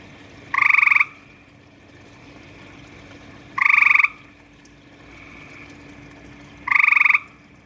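Frog croaking very loudly from about a foot away, three separate harsh, buzzy calls, each lasting roughly half a second and spaced about three seconds apart, with quiet background between them.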